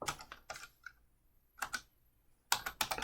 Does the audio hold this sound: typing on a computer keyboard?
yes